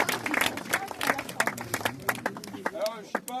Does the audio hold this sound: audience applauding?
yes